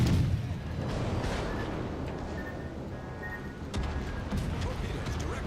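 Torpedoes strike in the starship combat game Star Trek Online, a steady rumble of heavy booms and blasts that holds at a loud level with sharper bursts near the start and end, and voices surface faintly within the din.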